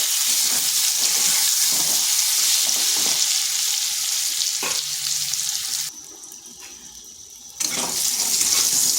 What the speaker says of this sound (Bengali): প্রথমে পটলগুলোকে ভেজে নেব।